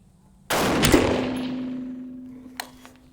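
A single rifle shot from a .350 Legend experimental load, a sharp loud outdoor crack followed by a long ringing decay and a faint later knock.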